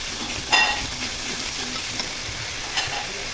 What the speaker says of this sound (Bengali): দিয়ে কিছুক্ষণ ভেজে নিব